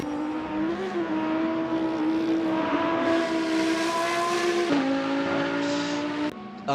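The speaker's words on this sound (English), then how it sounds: "You've got a few cars out on track right now" Race cars lapping a circuit during World Touring Car Series pre-season testing, engines droning loud and steady with a pitch shift as one car passes near, ending in a sharp burst.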